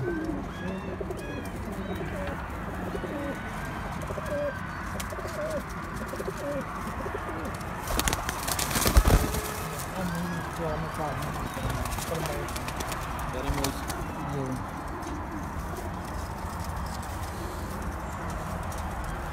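Khaki-breed pigeons coo softly on a rooftop, a steady murmur of many birds with some wing flutters and clatter, while someone talks over them throughout.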